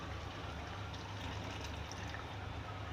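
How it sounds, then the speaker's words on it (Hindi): A cup of water pours into a pot of chicken korma, giving a steady, close hiss and trickle of liquid that runs continuously with no talking. "और अब इसके अंदर मैं 1 कप पानी डाल दूँगी"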